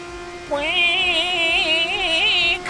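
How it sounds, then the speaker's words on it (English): A race car engine in the Assetto Corsa racing game drones at a steady, loud pitch that wavers slightly as the revs rise and fall. The engine sounds rough and sickly, and no one speaks. "Car sounds like it's dying."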